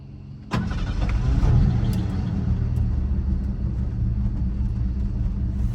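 Steady low engine rumble of a 1986 Ford F-150 pickup with dual exhaust, heard from inside the cab, starting with a thump as it fires up, then idling evenly with no talk.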